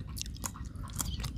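Close, moist chewing of food from a Thai raw beef dish with crunchy vegetables, soft crunching bites repeating in an uneven rhythm, with no talking.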